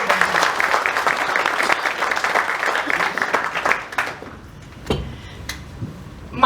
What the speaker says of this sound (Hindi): सबकी जोरदार तालियां बजाएं।